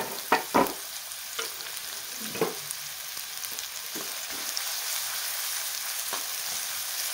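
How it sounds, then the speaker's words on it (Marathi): Chopped onion frying in hot oil for egg bhurji, a steady close sizzle with several sharp scraping stirs near the start and scattered spoon clicks later, no talk. "तेल गरम झालं की त्याच्यामध्ये टाकायचा आहे कांदा. तर सगळ्यात अगोदर कांदा टाकूया आणि कांदा छान परतून घेऊया."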